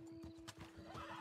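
A horse whinnies briefly in Red Dead Redemption 2 over a steady electronic hum, with a few hoof clops mixed in.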